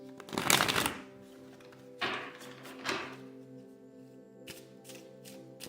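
Tarot cards shuffled in a deck, a loud burst of riffling near the start followed by two shorter, softer shuffles, recorded close with no talking.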